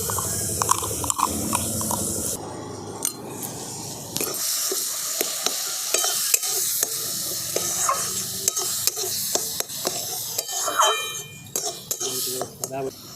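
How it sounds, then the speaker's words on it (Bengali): Carrot paste sizzles steadily in hot ghee while a spoon scrapes and stirs it, with sharp clicks and knocks against the pan throughout and a brief louder burst of frying near the start. "ঘিটা গরম হয়ে গেছে, এরপর আমি দিয়ে দিচ্ছি এই যে গাজরের পেস্টটা।"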